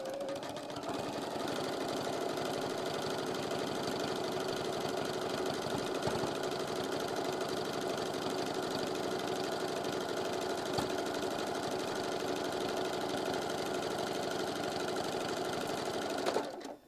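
A sewing machine runs a triple zigzag stitch across stained glass quilt blocks, a steady, loud mechanical whirr and rapid needle clatter that continues without a break for the whole stretch, then stops abruptly at the end.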